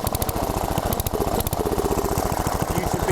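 A Briggs & Stratton 10 hp engine on an Allis-Chalmers Big Ten garden tractor runs loud and close with a rapid, steady firing chatter. The note stumbles briefly while its carburetor is adjusted and the throttle is opened.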